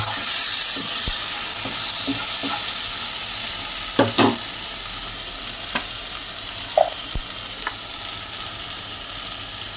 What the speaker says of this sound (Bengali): দিয়ে ভালো করে একটু নাড়িয়ে চাড়িয়ে নেব।